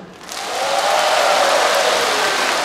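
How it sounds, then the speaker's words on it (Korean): A singing-class audience applauds, a dense and loud wash of clapping that swells in quickly and holds steady. "진짜 잘했다 박수"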